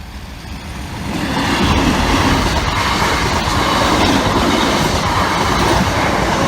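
A train crosses a bridge at moderate speed on a yellow signal near the Great North Road, its loud, steady rumble and clickety-clack swelling within the first second and holding close and continuous to the end.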